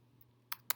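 Two quick, faint keystrokes on a computer keyboard, sharp clicks spaced a moment apart, alone over a low hum.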